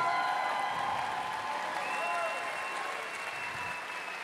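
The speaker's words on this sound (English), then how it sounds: "Everybody stand up and give a round of applause" An audience at a Latin dance festival in Sydney stands and gives sustained applause mixed with cheering. The applause is steady and loud throughout and eases only slightly toward the end, with faint whistles above it.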